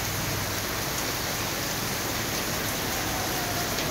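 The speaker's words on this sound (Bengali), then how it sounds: "কি ঝমঝম ঝমঝম করে বৃষ্টি, প্রচণ্ড বৃষ্টি" Heavy rain pours down in a dense, unbroken roar of drops that stays at constant loudness throughout.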